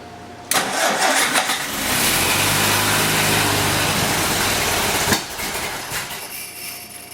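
A Ford Model A engine catches after a moment of quiet, then runs loud and uneven with a rough, throbbing idle for several seconds before a sudden drop in level; the timing is set with too much advance.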